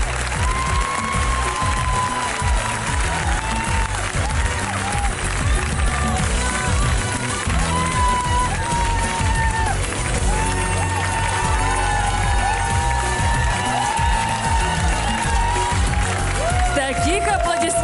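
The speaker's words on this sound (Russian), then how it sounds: "Друзья мои, давайте поаплодируем." Studio audience applause and cheering fill a television show stage, a dense continuous roar of clapping with shouts and whoops, loud and sustained throughout, with voices mixed in.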